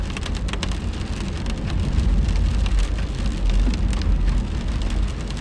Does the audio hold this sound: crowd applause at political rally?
no